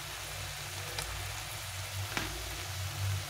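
Taro curry sizzles steadily in hot oil with salt, turmeric and ground spice paste, a continuous close frying hiss with a couple of faint stirring taps.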